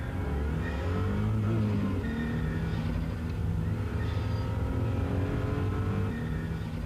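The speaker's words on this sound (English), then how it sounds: "The result is an engine that woofs, wheezes and twitters as the boost comes and goes." A turbocharged Venturi 400 GT sports car engine runs continuously, rumbling and rising and falling in pitch as boost comes and goes, with faint wheezing and whistling tones over the steady drone.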